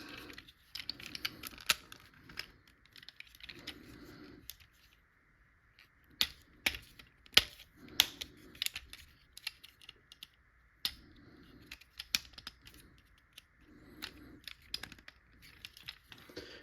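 Plastic tabs on parts of an SS86 Devastator toy figure click and snap into their slots in a series of sharp, close, irregular clicks with brief pauses between them.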